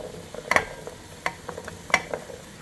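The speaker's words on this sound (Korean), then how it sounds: "야채 그냥 다 넣고 볶아." Vegetables and pork belly stir-fried together in a pan for a large batch of curry: soft scraping of a utensil and faint sizzling, with irregular clatters close by and no talk.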